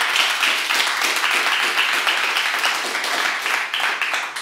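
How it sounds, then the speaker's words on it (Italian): Steady, dense applause from an audience at an Italian gathering honoring students who studied abroad, loud and even, continuing without pause for several seconds with no voices over it. "Un applauso."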